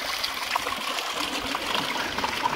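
Spring water gushes and trickles out of a hole in the ground after heavy rain, a steady, close-up watery rush that continues without any talking.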